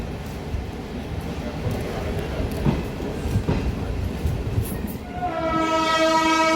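A DEMU local train departs Malkajgiri railway station, with rumbling wheels and carriage noise building before a loud, sustained horn blast sounds near the end.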